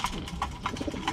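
Pigeons cooing close by, soft throaty coos repeating in quick succession over a light background hum.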